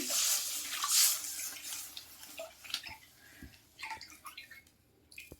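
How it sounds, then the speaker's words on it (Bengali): Milk poured into a very hot kadai that already holds a splash of water, while making milk vermicelli pudding (shemai payesh): a close, splashy pouring rush near the start, then fainter trickling and light bubbling with small clinks. Nobody speaks. "এবার আমি ঢেলে দিচ্ছি দুধ।"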